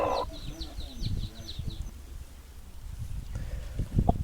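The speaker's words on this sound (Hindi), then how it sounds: "ये मेरे पास फाइटर ब्रीड के अंदर मुर्गा मौजूद है" An Aseel fighter breed rooster clucks in soft, quick bursts nearby, with scattered thumps and rustling over a quiet background and no talking.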